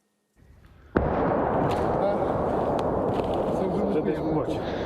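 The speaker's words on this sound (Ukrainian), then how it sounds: "Звуки вибухів розлітаються між столітніми соснами" Mortar fire in a pine forest: a sudden loud blast is followed by a long rolling rumble that echoes on. A faint sound comes before it, and a few sharper cracks sound later.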